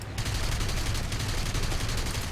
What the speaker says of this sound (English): that tail gunner's opening up